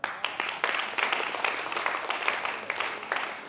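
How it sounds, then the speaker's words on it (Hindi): An audience at a live Q&A session bursts into loud, sustained applause, a dense wash of many hands clapping together that carries steadily from start to finish. "बजाओ ताली जोरदार।"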